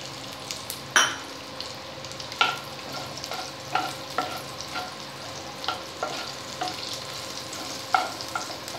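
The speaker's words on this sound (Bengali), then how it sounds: "এবার জিরে সাদা জিরে ফোড়ন দিচ্ছি" Cumin seeds, bay leaf and dried red chilies tempering in hot oil after prawns were fried, a steady sizzle broken by repeated sharp spatula scrapes and clinks against the pan, no voices.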